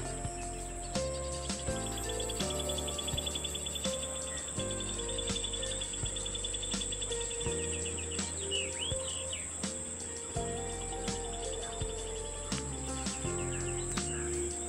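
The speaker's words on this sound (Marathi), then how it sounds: "आजूबाजूला पक्ष्यांचे आवाज ऐकू येत असतील" Continuous insect trilling with scattered bird chirps outdoors, a steady ambient chorus with no talking.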